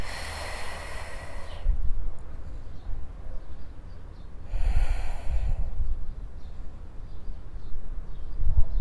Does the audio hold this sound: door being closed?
no